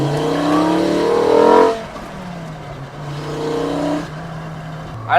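A Mk2 VW GTI with a swapped five-cylinder engine pulling hard, rising in pitch through a gear, dropping on a shift, then climbing again in another strong, close acceleration.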